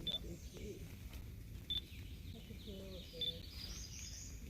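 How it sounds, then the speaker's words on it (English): Redstart calling outdoors during a birdwatch: a few short, high, thin call notes repeated at spaced intervals, faint and a little distant, with people talking quietly underneath. "I hear it. Red start right in front of us."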